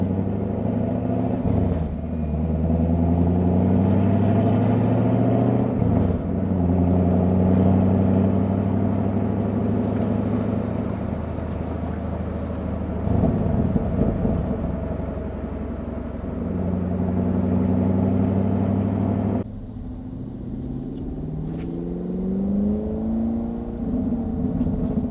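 A 2024 Chevrolet Camaro SS 1LE drives with a steady, loud engine drone and road rumble heard from inside, the pitch rising and shifting as it accelerates through gears, with a drop in intensity near the end.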